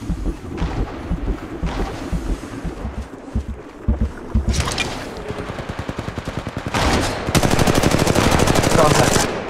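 Automatic weapon fire in the mobile battle royale game Apex Legends Mobile, with dense rapid bursts and a sustained loud volley toward the end, loud and close throughout.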